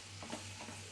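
Masala for a capsicum and tomato curry being stirred in a pan just after garam masala is added, a steady soft scraping and sizzle over a constant low hum, with no talk.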